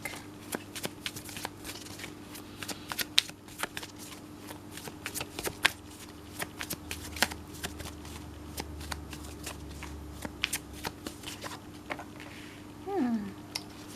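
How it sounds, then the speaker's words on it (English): A deck of tarot cards being shuffled close up, with repeated crisp riffling and flicking bursts in an irregular rhythm across the whole stretch and no talk. "as we grab this deck"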